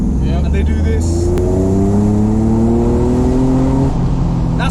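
A manual 1992 BMW 850i E31 V12 accelerating down the road, its engine note climbing steadily through the revs, with a brief gear change partway, loud and close throughout.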